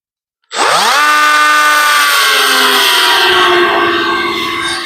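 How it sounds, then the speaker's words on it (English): An angle grinder cutting out spot welds spins up to a loud, steady high whine that holds for several seconds, alone with no talking. "we'll get with the grinder"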